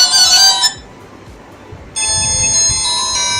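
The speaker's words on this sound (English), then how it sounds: "Okay, we got 4 and 5 ringtones" Two ringtones from a Z4 smartwatch: a bright, multi-tone melody rings loudly, stops briefly, then a second tone starts and holds steady to the end, close and clear with no talking.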